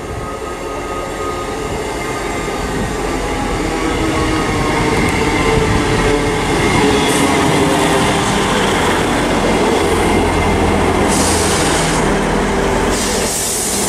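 A Class 158 passenger train rumbles loudly at close range in a station, wheels clattering and brakes hissing with a high squeal, a steady heavy roar throughout with no voices.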